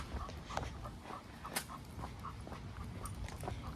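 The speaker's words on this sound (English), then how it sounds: "the final dog is Capiche, a young young lab who is determined to yank my arm off at the socket" A young Labrador retriever pulling hard on its leash pants in quick, breathy huffs, close by and fairly quiet, with small scuffing noises and no talk.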